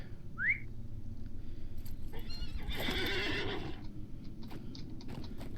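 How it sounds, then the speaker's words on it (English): A horse in the video game LOTRO gives one bright, rising whinny, then hooves clop along steadily beside a whistling tone and a brief shimmering chime. "Let's see if I grab my horsey."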